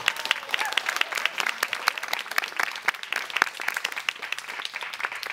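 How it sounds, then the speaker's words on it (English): Audience applause at a gathering celebrating a high school graduate, a moderately loud, sustained patter of many individual claps with sharp peaks, with some crowd voices mixed underneath. "A big applause for Albert."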